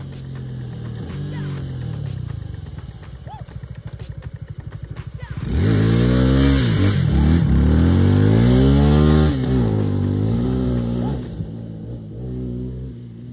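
Suzuki V-Strom 250SX motorcycle on the move: a ticking idle gives way to a loud, close engine revving up through the gears with steady wind rush.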